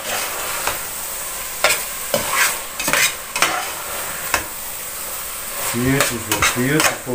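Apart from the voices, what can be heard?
chopped fresh basil roasting in a frying pan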